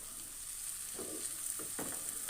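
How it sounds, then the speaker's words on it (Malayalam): Kerala-style prawn roast masala sizzles steadily in a pan, with a few soft scraping stirs breaking through the constant frying hiss near the end; no voices. "നമ്മൾ ഇടയ്ക്ക് ഒന്ന് തുറന്ന് ഒന്ന് ഇളക്കിയൊക്കെ ഒന്ന് ഇട്ട് കൊടുക്കണം"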